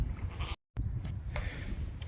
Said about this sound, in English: these ones here are all Easy Care cross mule